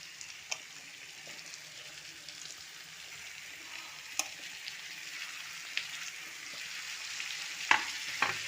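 Stuffed brinjals fry softly in a pan for gutti vankaya curry, a low steady sizzle broken by a few sharp clicks and scrapes as the pieces are turned.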